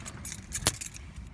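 Car keys for a BMW E92 M3 jingle briefly at close range, a short metallic rattle with one sharper clink in the middle, alone and without talk.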